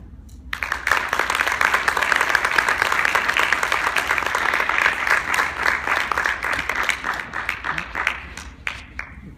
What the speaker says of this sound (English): That's how I clap.